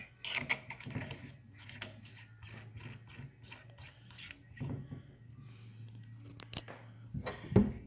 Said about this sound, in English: So good, nice, positive click turrets.